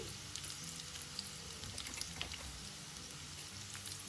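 Chana dal, urad dal and mustard seeds fry in hot oil for a Guntur-style ginger pickle, giving a soft continuous sizzle with scattered faint pops, close and quiet with no talk.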